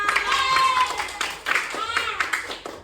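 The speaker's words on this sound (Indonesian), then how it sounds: "Oke, tepuk tangan buat kita semua" Children in an elementary classroom clap their hands together in short rhythmic bursts, mixed with a teacher's voice and kids speaking over the claps.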